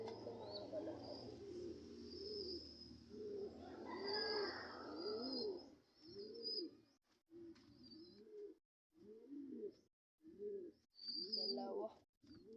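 Pigeons (kalapati) in a nesting loft with young squabs coo in repeated low, throaty bursts, close and fairly loud, with occasional high chirps and twittering between the coos.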